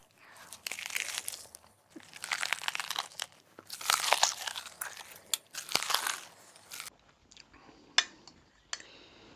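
Close, crunchy chewing of a frittata breakfast, with bursts of wet mastication and crisp bites repeating in clusters, then a few softer clicks and smacks near the end.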